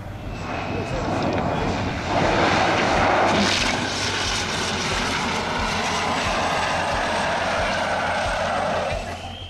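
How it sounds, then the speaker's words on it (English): A turboprop plane lands at Rara Airport, a hazardous mountain airfield in Nepal, during a landing that ends in a nosewheel collapse. The engine drone stays loud and sustained, swelling briefly, with a voice talking over it. "A turboprop plane suffered a nosewheel collapse during landing at Rara Airport, Tulche, in Nepal."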